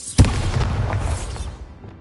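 A single loud, close blast from the Bombarda spell in Hogwarts Legacy, a sharp boom that decays into a rumbling tail over about a second and a half.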